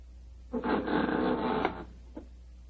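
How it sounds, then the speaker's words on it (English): A front door opening in an old-time radio drama: a rattling, creaking burst lasting about a second, then a faint click, heard alone at close range. "There goes the front door."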